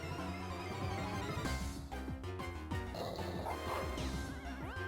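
A dog Pokémon's cry from the Pokémon White video game, heard as short yippy barks over steady looping game music, with crashing hit effects in the middle of the battle.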